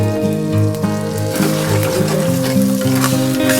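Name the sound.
egg frying on high flame for fried rice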